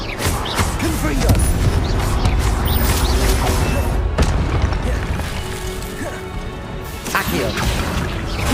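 The Confringo explosive blasting curse fires repeatedly in Hogwarts Legacy. Loud crashes and booms land in quick succession amid busy, dense game noise, with occasional speech.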